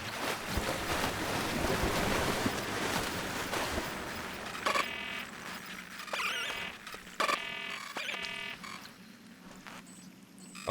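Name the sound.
water and waves in video game Scanner Sombre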